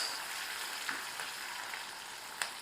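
Curry leaves and chopped green chillies frying in hot oil give a steady, soft sizzle with a couple of brief sharper crackles, heard close and alone without talk.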